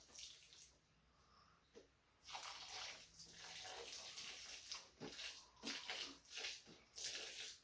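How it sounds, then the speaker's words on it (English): Water splashes onto the soil of potatoes growing in a bag, coming in uneven bursts of pouring and trickling after a quiet start, close and fairly loud. "now we just water right in the soil where the potato starters were"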